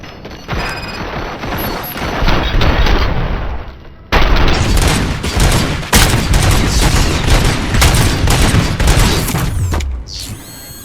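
Gunfire in the video game RoboCop: Rogue City comes as dense, loud, sustained bursts with heavy booms and mechanical clatter, continuing almost without a break before briefly dropping off near the end.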